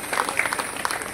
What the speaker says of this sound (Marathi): एकदा त्यांच्यासाठी टाळी वाजवा.